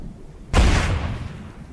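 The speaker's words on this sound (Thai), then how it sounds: "ระเบิดไฟเล็กเผาไป" A small incendiary bomb goes off in the video game State of Decay 2 with a sudden, heavy boom that hits hard and then rumbles and crackles away over a steady background hum.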